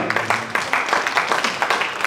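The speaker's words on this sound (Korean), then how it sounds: "박수로 환영하겠습니다" Applause from a church seminar audience welcoming the praise team, a dense, steady patter of many hands clapping at moderate loudness for a couple of seconds.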